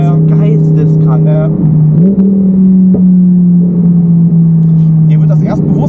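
A 1200 hp Audi R8 biturbo pulls hard in seventh gear, a loud, steady engine drone that rises slightly in pitch partway through and holds strong throughout, heard from inside the car.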